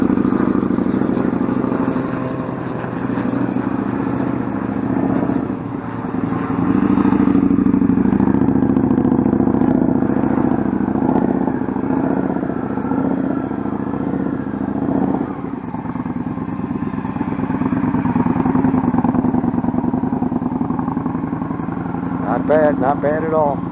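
A student rider's motorcycle steadily running through slow practice turns and a U-turn on a training course, a continuous mid-pitched engine drone heard under ongoing talk throughout.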